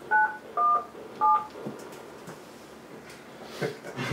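Three quick telephone keypad tones beep in a short sequence, followed by faint room noise and soft bumps, with no talking.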